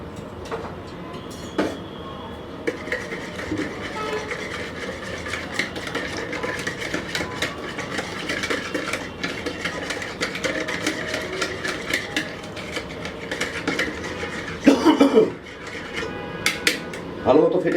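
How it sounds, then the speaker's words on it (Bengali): A yeast, salt and milk mixture is beaten in a bowl, giving steady clinking and scraping of utensil against the bowl throughout, with a louder knock near the end. "ভালো মতো ফেটে মিলাই নিলাম"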